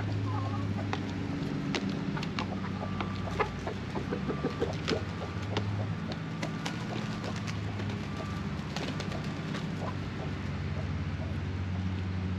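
Chickens and a rooster cluck softly inside a coop, scattered short calls and rustling over a faint low hum, fairly quiet and intermittent throughout.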